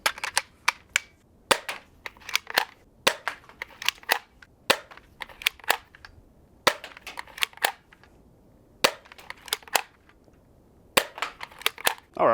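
A Dart Zone Max Outlaw foam dart blaster fires repeatedly, each shot a sharp, loud crack followed by a short pause. The shots come one after another in quick bursts, with brief gaps between the groups.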